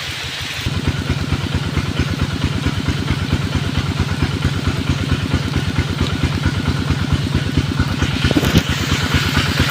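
A souped-up vehicle engine drones steadily and close as it climbs a steep, difficult road, with a rapid, even clattering pulse that holds throughout and a brief louder rattle near the end.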